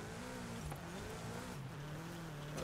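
A VW Beetle rally car in Forza Horizon 5 drones steadily through a hairpin, its engine tone dipping on a downshift to third and then climbing under generous throttle, loud and continuous with no talking.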